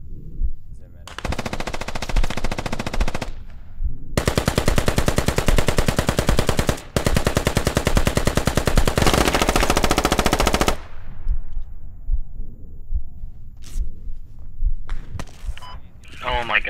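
Machine gun fire in the tactical shooter game Squad, with long loud sustained automatic bursts broken by short pauses, then quieter game sounds and scattered shots afterward.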